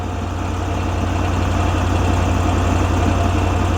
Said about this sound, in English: Right now the system is running on idle.